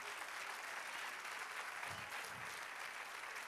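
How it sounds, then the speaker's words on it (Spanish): Church congregation applauding during a Spanish-language sermon: a steady, even wash of clapping from many people, somewhat distant and faint, lasting the full few seconds, with a brief low murmur partway through. "Dan aplauso al Señor."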